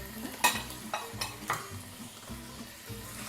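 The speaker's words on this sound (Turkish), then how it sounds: "Şimdi bu arada tavuklarımı atıyorum. Evet ben bu sesi seviyorum." Quiet frying of chicken in a pan, a low sizzle under scattered clinks and scrapes of stirring.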